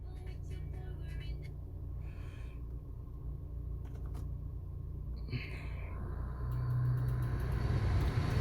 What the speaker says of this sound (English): Now I will turn on my AC.